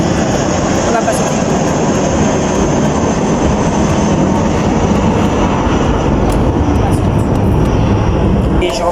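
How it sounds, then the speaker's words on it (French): Airplanes flying low over a shopping centre in Benalmádena, Málaga, a steady loud broadband engine roar filling the whole stretch with no break, with faint voices in the background. "ce qui est chiant avec ce centre commercial, c'est qu'il y a des avions toutes les 10 minutes"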